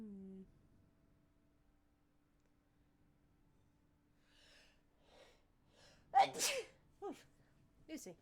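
A single sharp sneeze from a person indoors, close and fairly loud after a quiet stretch, with a brief reply spoken just after it.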